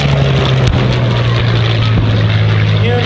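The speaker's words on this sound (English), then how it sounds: "Here's the P-40." Curtiss P-40 WWII warbird flying past at an airshow, a loud steady propeller-engine drone holding a strong low tone throughout, with crowd and ambient noise under it.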